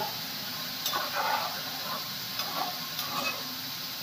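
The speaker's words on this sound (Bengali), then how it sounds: "তো এখন আমি একটা একটা করে মাছ দিয়ে দিচ্ছি।" Pieces of fried jiol fish are slipped one at a time into a cauliflower and potato curry, giving a steady close sizzle with a few soft clinks and stirs and no talking.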